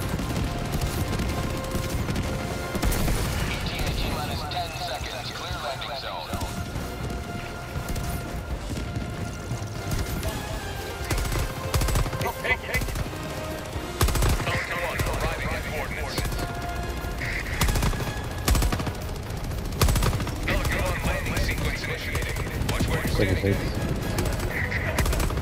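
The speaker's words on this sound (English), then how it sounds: "Shooting at whatever, man." Dense, continuous gunfire from a squad in the co-op shooter Helldivers 2 during an attack on a fabricator, with rapid automatic bursts and overlapping shots. Blasts and impacts fill the whole stretch at a steady, loud level.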